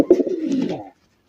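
A gola pigeon, an old-type gola breed kept in a pair, gives one soft, near, throaty coo lasting under a second, then silence.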